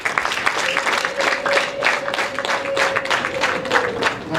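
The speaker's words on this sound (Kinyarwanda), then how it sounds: "Munyongera amashyi tumwakire" Wedding guests in Rwanda applauding to welcome the bride, a dense, steady crowd of clapping hands throughout with a faint tonal hum beneath.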